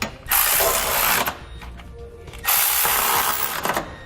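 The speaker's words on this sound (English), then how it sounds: "I'm going to come back with a 19mm socket and snug them up" A ratchet with a 19mm socket snugs up the trailer hitch bolts on a 2013 Chevrolet, heard up close as two loud bursts of fast ratcheting clicks with a short pause between.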